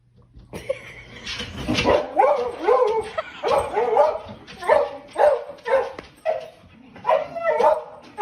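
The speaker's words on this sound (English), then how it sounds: "Dog loves to watch horse racing." A dog barks and yips repeatedly while watching horse racing, with loud, close barks coming in a steady rhythm of bursts and some whimpering in between.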